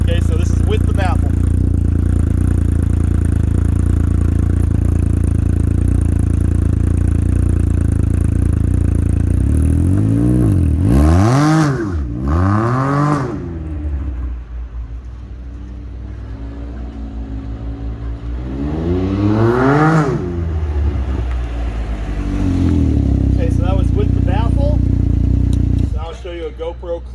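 Can-Am Ryker three-wheeler fitted with a Treal race exhaust, baffle installed, rumbles steadily while riding, its engine note rising through several revving pulls and easing back, close and loud throughout.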